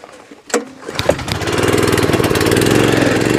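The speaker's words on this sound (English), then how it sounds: "I just realized you're not going to hear me over that engine." A small engine, something like a lawn mower, kicks into life after a few sharp clicks and then runs loud and steady close by, its rough mid-pitched drone holding at full strength without pause.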